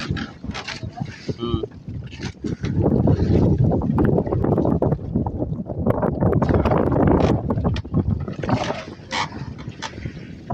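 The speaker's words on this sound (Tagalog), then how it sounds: "Medyo malakas ang amihan." Strong northeast monsoon wind roars steadily across a small fishing boat at sea during night squid fishing, a loud broadband rush lasting throughout with voices talking over it.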